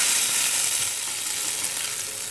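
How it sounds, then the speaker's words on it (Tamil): A tempering of spices crackles in hot oil for tomato chutney, a loud, dense, continuous sizzle heard up close with nothing else over it. "நம்ம இப்போ இதுக்கு ஒரு தாளிப்பு கொடுத்துடலாம்."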